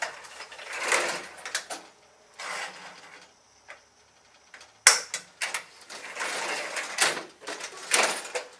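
Legs of a Babee Tenda table being raised to their highest height, giving bursts of metallic clicking, rattling and sliding clunks, with quiet gaps between them and a sharp knock midway.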